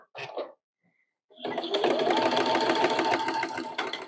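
A sewing machine runs steadily in straight stitch through fabric on a paper greeting card, a loud, continuous whirring run that starts after a brief rustle and a pause.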